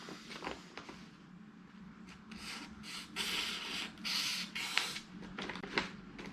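A knife is drawn through an AnySharp sharpener in faint, short scraping strokes, several quick rasps in a row, close but quiet.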